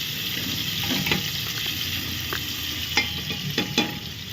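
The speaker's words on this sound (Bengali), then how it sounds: "তেলটা গরম হয়ে গেলেই আমি এর মধ্যে একটু পেঁয়াজের কুচি দিয়ে দেবো। পেঁয়াজ কুচিটা দিয়ে নাড়তে থাকবো।" Chopped onion fries in hot oil in a pressure cooker, a steady sizzle broken by several sharp scrapes and clinks as it is stirred, with no talking.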